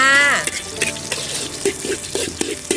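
Garlic stir-frying in hot oil in a wok, a brief tonal squeak at the start followed by soft sizzling and intermittent clinks and scrapes of a utensil, close and fairly loud.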